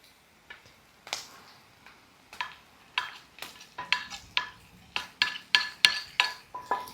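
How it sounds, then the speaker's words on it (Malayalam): Sliced onions going into a hot pan with browned garlic and ginger, for a king fish pollichathu, as a series of sharp stirring scrapes over a sizzle that grows louder and quicker, close up, no talking. "ഇനി ഇതിനകത്തോട്ട് നമുക്ക് അരിഞ്ഞു വെച്ചേക്കുന്ന സവാള ചേർക്കാം"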